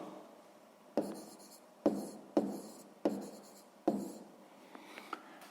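Pen writing numbers by hand on paper during a sixth-grade maths exercise, five distinct scratchy strokes at roughly even intervals, close and quiet, with a few lighter taps trailing off at the end.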